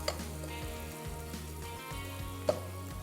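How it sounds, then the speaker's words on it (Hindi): Garlic ginger paste frying in hot oil in a karahi while making kabab karahi, a steady soft sizzle and crackle with a faint clink partway through and a low hum beneath, no talk. "लहसुन अदरक का पेस्ट डाल के 30 से 40 सेकंड थोड़ा सा फ्राई करेंगे"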